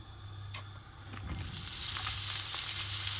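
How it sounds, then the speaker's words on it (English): Sausages sizzle in a hot frying pan, the crackling hiss swelling louder after a few stirs and scrapes, with no voices. "You will want to hear that sizzle, means that it's hot enough."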